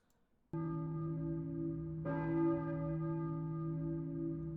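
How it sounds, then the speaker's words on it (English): A church bell tolls in the Silent Hill video game, a loud sustained ringing strike with a rich hum, struck again midway and left to ring on alone. "You hear that bell?"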